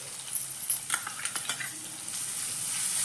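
Dry onion sautéing in a pan with garlic-chilli paste over a medium flame, a steady close sizzle with scattered stirring clicks and scrapes of a spoon against the pan.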